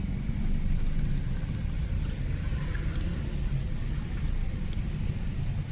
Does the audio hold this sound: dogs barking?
no